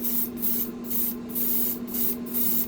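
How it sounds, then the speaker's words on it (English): Inside a spray booth, a spray gun lays down Kaleido primer in a series of five or six short hissing passes separated by brief gaps, all over a steady humming exhaust fan. "We put in some of that new Kaleido primer, and yeah, it is pulling right to the center."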